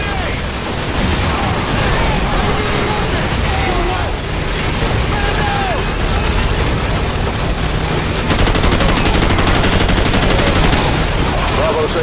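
Sustained machine gun fire in Call of Duty Modern Warfare rattles continuously through a dense battle mix for the whole stretch, steady and loud, with radio-style voices talking over it.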